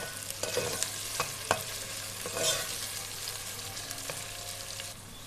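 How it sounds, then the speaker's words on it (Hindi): Ginger garlic paste stir-fried in a pan for Lahori chole, a steady sizzle with several sharp spatula scrapes and clinks spread through the frying, moderately close, no talk. "अदरक लहसुन का पेस्ट डाल के इसे अच्छे से भून लेंगे"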